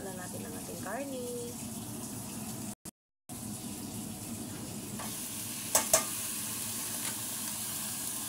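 Meat is stirred into a tomato sauce for macaroni in a pan, giving a continuous soft sizzling and scraping with a few light utensil taps. A voice speaks faintly at the start.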